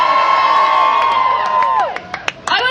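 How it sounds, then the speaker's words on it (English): Crowd cheering and shouting at an outdoor climate rally, loud and sustained at first, then trailing off into scattered whoops and claps near the end. "I think you should all give yourselves a big cheer."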